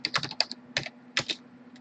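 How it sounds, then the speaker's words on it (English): Code is being typed on a computer keyboard in quick bursts of close, crisp key clicks separated by short pauses, with no talking. "after we finish typing this out"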